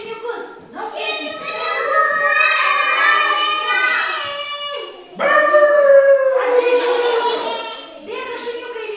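Children's voices imitate dogs, howling in long wavering tones with a few yips, in a children's play of the fairy tale The Turnip; two sustained howls sound loud and close, with a short break between them.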